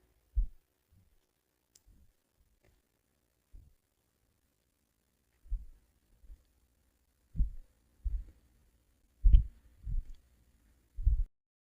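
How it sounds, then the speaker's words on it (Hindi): Heartbeat sound effect in a narrated Hindi dark-romance story: soft low thuds, first sparse and irregular, then a steadier run of paired beats growing louder toward the end, alone with no talk. "दक्ष का इतना बोलना सिया के दिल की धड़कनों को बढ़ाने के लिए काफी था।"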